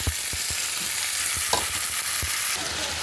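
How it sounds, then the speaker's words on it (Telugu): Onions, moringa drumsticks and freshly added tomatoes are stirred in a frying pan: a steady oily sizzle with a few sharp spatula scrapes and knocks against the pan, close and alone with no talking. "ఇప్పుడు టమాటాలు వేసుకొని తిప్పుకుందాం బాగా"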